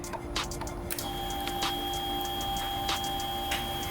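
A Lifan KPR 200 motorcycle's fuel pump primes with a thin, steady electric whine that starts about a second in. Small irregular ticks and clicks run through it, close up in a quiet space.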